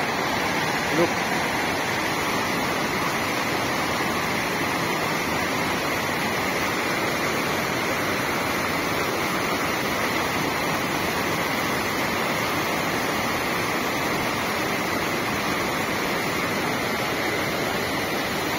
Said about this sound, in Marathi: पाणी पण वाढतंय खूप. पाऊस चालू आहे वरतून.